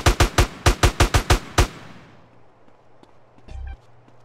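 A rapid burst of about nine gunshots from GTA: San Andreas, loud and evenly paced, then the firing stops and fades into quiet game ambience with a few faint clicks.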